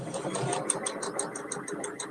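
A sewing machine stitching fabric for a handmade teddy bear hums steadily, with a fast, even ticking of the needle running throughout at close range.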